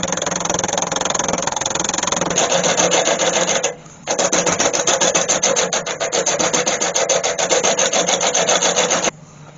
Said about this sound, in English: I turn the lathe right down because that's going to be spinning off centre.